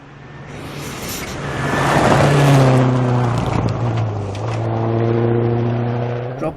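A Subaru rally car on a Scottish Rally Championship stage roars past loudly. Its engine revs climb, peak and fall away as it goes by.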